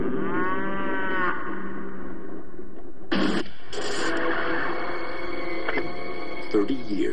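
Dairy cattle low repeatedly on a farm, with drawn-out moos coming at a moderate distance, overlapping one another and followed by scattered shorter calls.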